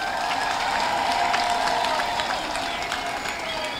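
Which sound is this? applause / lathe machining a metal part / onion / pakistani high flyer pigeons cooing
applause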